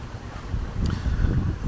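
Strong hurricane wind gusts from Hurricane Milton in Orlando roar and buffet the microphone, a steady low rumble that swells louder partway through, with no voices.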